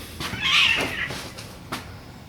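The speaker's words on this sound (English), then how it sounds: "Cat fight." Cats yowl and screech at each other in a short, harsh burst, with a sharp cry near the end.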